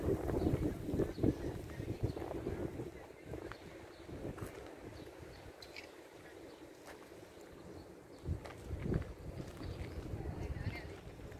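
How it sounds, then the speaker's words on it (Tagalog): Strong wind buffets the microphone at the Acropolis in Athens, producing continuous low rumbling gusts that swell and fade, with a person talking intermittently underneath. "Lakas ng hangin."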